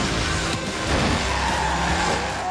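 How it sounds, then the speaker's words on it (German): A car in the Forza Horizon 3 racing game brakes late into a corner, its tires squealing and skidding over a continuous roaring engine at close, loud range, with no talk over it. "da habe ich jetzt ein bisschen spät gebremst"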